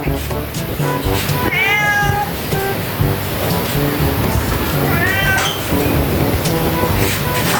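Several fat domestic shorthair cats meow repeatedly nearby, drawn-out mews rising over a busy, noisy background with some low voices.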